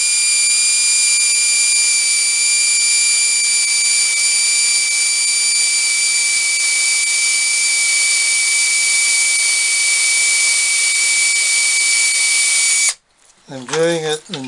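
A power drill boring a hole in a heavy-duty tool work bench runs as a steady high whine for about thirteen seconds, then stops abruptly, followed by a brief voice.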